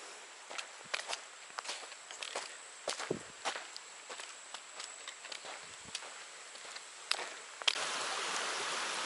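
Footsteps crunch irregularly along a trail beside a creek in the foothills, with soft hiss of flowing water underneath and a louder, steady rush of water swelling in at the end.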